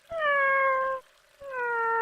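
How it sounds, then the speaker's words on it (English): A cat gives two drawn-out meows, separated by a short pause, clear and close with no talk around them. "she woke up to the cat still meowing from the outside"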